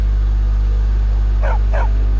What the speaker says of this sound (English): Ooh, look at that. There's a doggo!